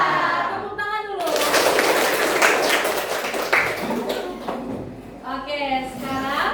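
Children clapping together in a classroom, a dense burst of applause that runs for several seconds after a short spoken cue and fades as a teacher's voice returns.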